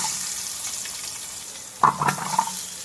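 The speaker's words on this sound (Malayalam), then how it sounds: "നമുക്ക് കൊച്ചുള്ളി ഇടാവേ." Shallots drop into a hot pan of frying grated coconut and turmeric for a Kerala-style turkey roast, a soft sizzle that flares into a sudden loud crackle as they hit the oil, close up with no talking.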